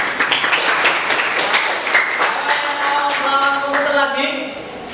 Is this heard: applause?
yes